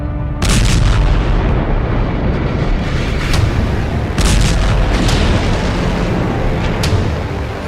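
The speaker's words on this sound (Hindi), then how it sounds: "एक के बाद एक धमाके हो रहे हैं।" Repeated explosions from Israeli strikes on Beirut during the conflict with Hezbollah, heavy booming blasts rolling one after another with a sustained rumbling roar and no voices.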